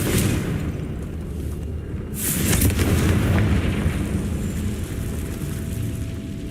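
A Confringo fire spell explodes in the Hogwarts Legacy video game, a loud rumbling boom that swells partway through and rolls on as a dense roar.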